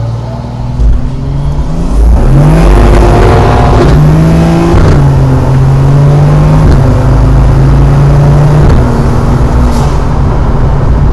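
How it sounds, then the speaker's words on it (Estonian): A car's engine is brought up against a trans-brake launch, revving hard and holding high with pitch shifts, loud and close throughout, with no talk. "Proovime korra transbreaki ka või?"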